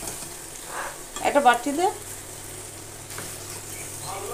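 Chicken sizzles and fries in a pan, a steady hiss with a short burst of louder spattering and stirring midway, while someone speaks briefly nearby.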